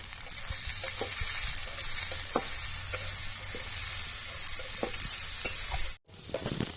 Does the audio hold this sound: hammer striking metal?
no